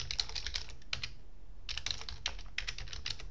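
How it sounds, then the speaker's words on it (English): A URL is typed on a computer keyboard in quick, light bursts of keystrokes with a short pause in the middle, close by and fairly quiet. "so you just type it in the URL bar"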